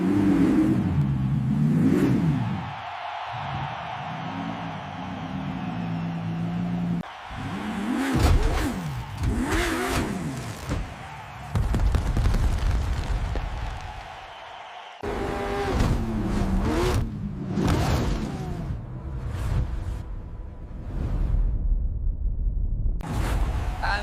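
A Lamborghini Aventador launching off a ramp jump, its engine revving in sharp surges with whooshing passes and abrupt cuts, loud and close throughout.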